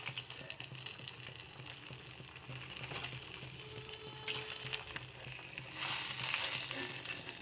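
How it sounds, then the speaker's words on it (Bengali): Parshe fish frying in hot oil, a steady broadband sizzle that runs the whole time with a few louder surges, close by and alone with no talk. "দেখো মাছগুলো কত সুন্দরভাবে ভাজা হয়েছে"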